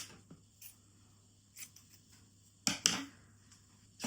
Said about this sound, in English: So next up, you will cut the yarn